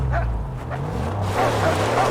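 A dog in the video game Mad Max barks and whines, short yips and whimpers over a low droning game background, close and moderately loud.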